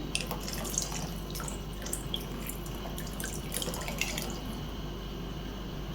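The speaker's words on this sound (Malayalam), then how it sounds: "ഇതിലേക്ക് നമുക്ക് കലക്കി വെച്ചിരിക്കുന്ന കോൺഫ്ലവർ കുറേശ്ശായിട്ട് ഒഴിച്ചു കൊടുക്കാം." Cornflour slurry trickling into a pot of boiling chicken soup, a steady close liquid pour with small drips over continuous bubbling, no talking.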